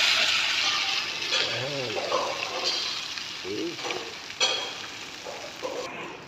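An eggplant omelette sizzles steadily in a pan, which is shaken so the oil hisses and surges, while a person talks over the frying and a few scraping knocks sound from the pan.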